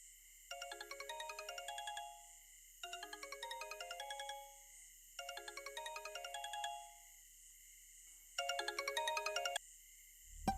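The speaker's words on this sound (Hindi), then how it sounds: "फोन बजदा पे, फोन ता सुन" A phone ringtone plays in four repeated bursts of bright chiming tones, each about a second and a half long with short pauses between, fairly quiet and alone.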